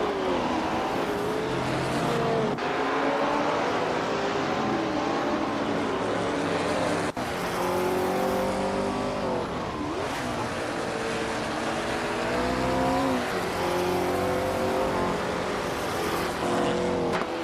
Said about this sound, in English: The fight for 4th place between Bot Yaboy Rwanda and Bot Jungenstore 102 is getting intense, with both cars closely matched